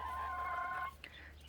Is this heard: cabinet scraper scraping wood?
no